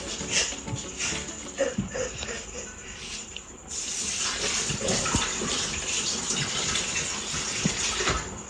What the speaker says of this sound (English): And some blueberries. Let me just wash it.